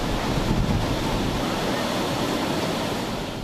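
Waves crash and surge on a beach under red warning flags, a loud continuous roar of surf with wind buffeting the microphone throughout, no voices.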